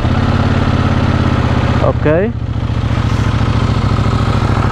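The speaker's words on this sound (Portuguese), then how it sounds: "Olhem só o rugido aqui do motor." CFMOTO 800NK motorcycle with stock exhaust, started by keyless button, its engine catching with a brief rising rev and then settling into a loud, steady, close idle; a voice speaks one short word.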